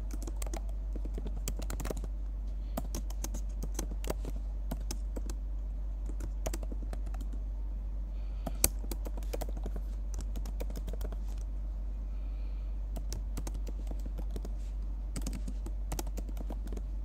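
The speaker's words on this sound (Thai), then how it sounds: "จากนั้นเราจะมาพิมพ์กัน game.workspace" Code is typed on a computer keyboard while scripting in Roblox Studio, with quick, fairly faint keystroke clicks that come in irregular bursts and short pauses over a low steady hum.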